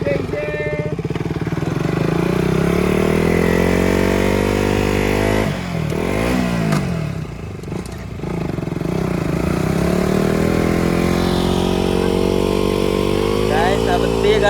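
A KTM motorcycle stuck in beach sand roars close and loud, its engine revving up and down continuously with a brief dip partway through. Voices talk over the engine.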